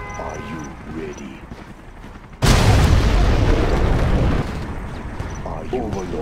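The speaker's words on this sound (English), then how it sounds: "We have launched our nuclear missile." A nuclear missile detonates in Command & Conquer Generals Evolution mod with a sudden huge blast, then a sustained roaring rumble that drops off after a couple of seconds, while an in-game voice talks before and after.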